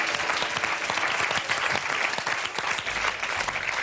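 A studio audience applauds a singer after her performance of a song, steady, dense clapping that stays loud and close for the whole stretch with no voices over it.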